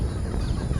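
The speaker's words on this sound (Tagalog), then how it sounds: "nakasalubong na yung ating mga manok" Free-range chickens clucking near a coconut grove while being approached for feeding, a short burst of close, busy clucks and low farmyard noise.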